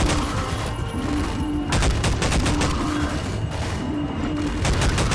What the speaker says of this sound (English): I can just shoot them as they jump out